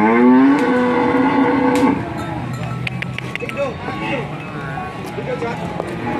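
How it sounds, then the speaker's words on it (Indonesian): A cow at a cattle market moos loudly and close by, one long low call, followed by the murmur of the market crowd and scattered voices. "Ini sapi Rossi masuk pasar ini."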